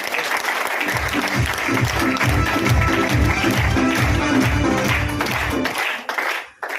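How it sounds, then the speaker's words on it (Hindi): An audience at a marketing presentation gives a speaker loud applause, a dense, continuous burst of clapping with a rhythmic beating pulse underneath, cutting off abruptly near the end. "उनके लिए जोरदार तालियां एक बार"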